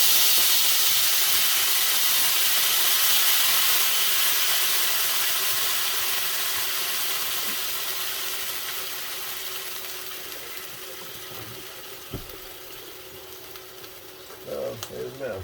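Red wine hits a hot pan to deglaze it, giving a loud steady sizzle and hiss that slowly fades over about fifteen seconds, ending with a few stirring clinks.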